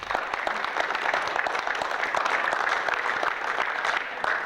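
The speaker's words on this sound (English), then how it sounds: "let's give Elder Baba Renuka Rashidi another round of applause." An audience at a lecture on esoteric Black history breaks into sustained applause, a dense, even wash of many hands clapping that carries on steadily throughout.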